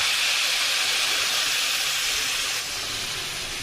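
A loud, steady hiss of water hitting a hot pan, sizzling and steaming continuously, easing slightly toward the end.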